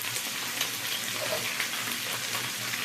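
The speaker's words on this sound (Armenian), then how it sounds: "մեկ փոքրիկ գլով սոխ ենք ավելացնում" Onion sizzles and crackles in a pan with beef, a steady close frying hiss with faint stirring.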